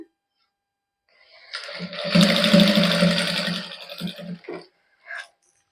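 A sewing machine runs a continuous stitching burst along the neckline of a matching suit, then slows to a few short stops and starts with a brief final whir, close and loud with no talking.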